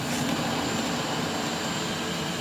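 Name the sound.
street vacuum blower running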